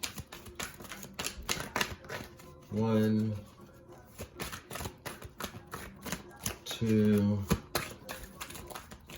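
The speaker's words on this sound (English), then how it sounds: "Five more shuffles." Tarot cards shuffled over and over in quick bursts, a steady run of crisp, close papery clicks and slaps, with a voice counting aloud over them.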